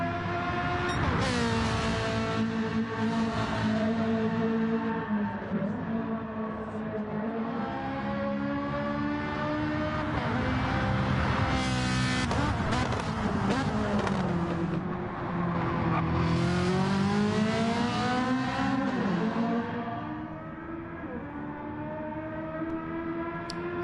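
Race car engines in Gran Turismo 7 rise and fall in pitch through gear changes, loud and continuous with tire squeal, the harmonic whine sweeping as the cars accelerate and brake.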